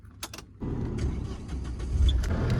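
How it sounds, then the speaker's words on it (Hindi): Power window of a Tata Safari Storme SUV glides all the way down from a single tap: a couple of soft clicks, then a steady motor whir that hums on continuously to the end. "1 टैप किया, 1 टैप में ही पूरा नीचे आ गया है"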